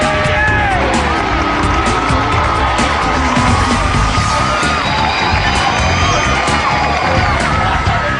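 Football fans celebrating Llanelli AFC's league championship after a 5-0 home win, a crowd of over 700 cheering and yelling steadily throughout, dense and loud with whoops and shouts.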